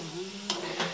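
Spices and ginger-garlic paste fry in oil in a kadai, with a soft sizzle under a low hum and two brief scraping stirs.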